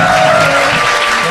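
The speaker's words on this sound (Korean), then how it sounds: "박수 부탁드립니다." Brief burst of audience applause on a talk show stage, steady loud clapping filling the whole moment without speech.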